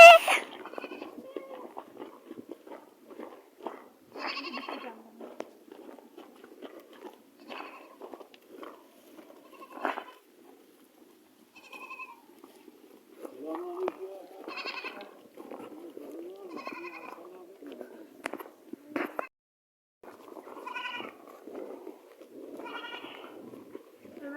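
Goats on a farm bleat repeatedly, several calls scattered across the scene at moderate distance, with people chatting intermittently between them.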